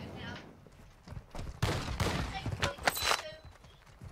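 Gunfire crackles in a Call of Duty DMZ match, with bursts of shots of varying loudness arriving in irregular clusters. A voice speaks faintly beneath the shooting.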